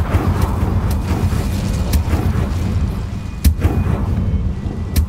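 Incendio fire spell cast in Hogwarts Legacy, a roaring, crackling burst with sharp popping impacts over a rumbling combat background, loud and continuous without speech.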